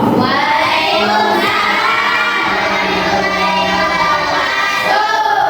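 Classroom children in a group cheer and shout loudly and continuously after group 2 is called, a dense, close, unbroken roar of young voices with possible clapping mixed in.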